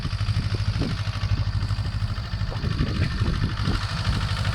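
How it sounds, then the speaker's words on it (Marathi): A tractor engine chugs nearby on a farm after maize sowing, with a steady, low, rhythmic thumping and a light mechanical rattle. "आलाय ट्रॅक्टर आता."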